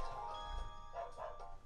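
A cartoon dog barks in the Animal Matchup minigame of Wii Party U, a few quick yips and woofs over a soft game music bed, with no voices.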